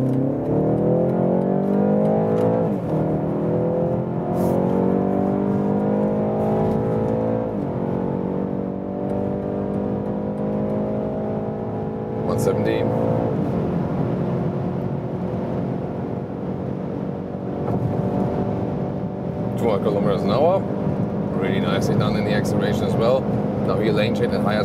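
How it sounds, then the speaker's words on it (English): A BMW 330i in sport mode accelerates from around 40 km/h, heard from inside the cabin as a loud engine drone that climbs through the gears with rising pitch, while a person talks over it. "Now to the BMW 330i, we put it to the sport mode."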